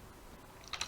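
Typing the command ifconfig on a computer keyboard plugged into a Raspberry Pi: a few soft close key taps, quiet and brief.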